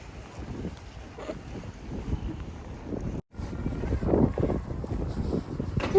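Cold, steady wind roars and buffets the microphone outdoors in Canada, with a brief dropout near the middle before the gusting resumes.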